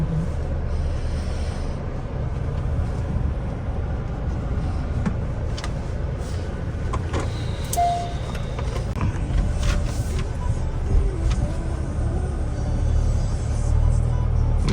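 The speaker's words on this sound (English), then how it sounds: "It's the first time I'm driving a diesel car" A 2024 Kia Sportage diesel heard from inside the cabin while driving, giving a steady low engine rumble and road noise with occasional creaks and small clicks, and no talk over it.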